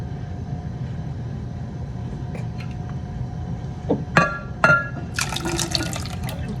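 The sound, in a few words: milk being poured into a pan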